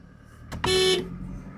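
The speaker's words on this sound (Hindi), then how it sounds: "अब मैं हॉर्न बजाऊंगा" Car horn honked while driving through the Namibian desert, one short loud blast of about a third of a second, close by, preceded by a brief click.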